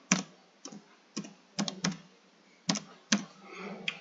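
Typing on a computer keyboard: scattered bursts of close, crisp key clicks spread across a few seconds, with short pauses between the groups and no voices.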